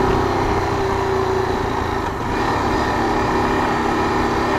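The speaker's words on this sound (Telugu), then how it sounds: "ఇదే ఇంజన్ బ్రేకింగ్" A Yezdi Adventure motorcycle is engine braking down from a steady 54 on the road, its engine humming continuously with a brief dip in drone mid-way, heard close with wind noise.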